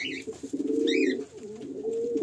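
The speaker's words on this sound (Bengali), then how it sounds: "একদম ব্রিডিং রেডি পায়রা" Breeding-ready Madrasi pigeons, offered for sale in Kolkata, coo up close in a steady, throaty rolling series with brief dips between phrases, alone with no voices.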